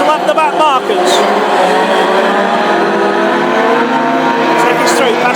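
Classic hot rod race cars at Hednesford lap slower back markers, with a dense mix of revving engines rising and falling in pitch as they pass, under a race commentator's voice.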